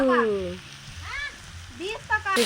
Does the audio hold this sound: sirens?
no